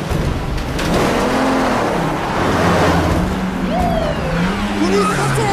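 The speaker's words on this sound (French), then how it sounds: "Véhicule en mouvement." A police vehicle drives along at speed, its engine a loud, steady drone with shifting tonal whines, and faint voices are present beneath it.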